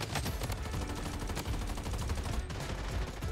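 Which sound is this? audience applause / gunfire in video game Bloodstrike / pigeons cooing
gunfire in video game Bloodstrike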